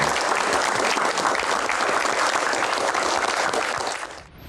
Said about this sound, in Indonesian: Tepuk tangan dulu untuk bos pertama.